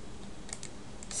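A few soft keystrokes on a computer keyboard, then a slightly louder key press at the end, with no voice over them.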